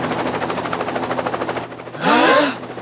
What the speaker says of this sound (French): Encore ces hélicoptères!